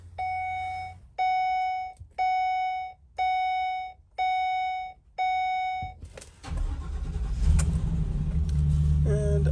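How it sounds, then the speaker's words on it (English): After six evenly spaced warning chimes, the engine of a 2013 Ford E-250 cargo van cranks and catches, then settles into a loud, steady idle close by. "I'm gonna start up the van so that way you can have a look at the odometer"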